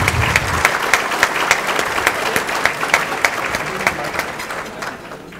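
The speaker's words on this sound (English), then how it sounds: "Let's give him a round of applause." Audience at a Tiger Bay debate in Sarasota clapping for the moderator, a dense burst of applause from a seated crowd that fades out over a few seconds.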